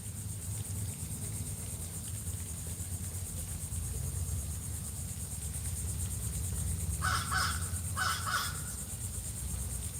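A crow caws outdoors, giving a couple of short harsh calls in quick succession against a steady hum of background noise, with no talking.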